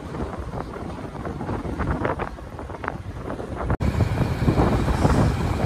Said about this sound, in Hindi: हवा चल रही है ठीक ठाक।